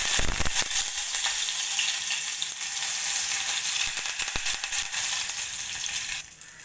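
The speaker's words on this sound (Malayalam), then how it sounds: "ഉലുവ പൊട്ടുമ്പോഴേക്ക് ഇതിലേക്ക് കുറച്ച് കറിവേപ്പില ഇട്ട് കൊടുക്കാം" Fenugreek seeds and curry leaves fry in hot oil for a Kerala-style mutton curry, a loud continuous sizzle with sharp crackles and pops throughout, easing slightly at the end.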